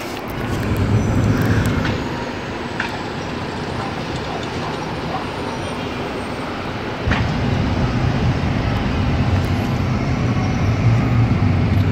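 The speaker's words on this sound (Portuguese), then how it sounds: "ali tem o trilho do trem e passa fazendo muito barulho" A loud train rolling along the railway track past an apartment in Buenos Aires, a continuous heavy rumble that eases slightly midway and then swells again, close and with no talk.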